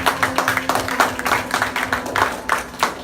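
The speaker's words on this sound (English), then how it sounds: "Clap it up for that one." Congregation in a church service breaks into applause, a steady run of many hands clapping close and fairly loud with no voices over it.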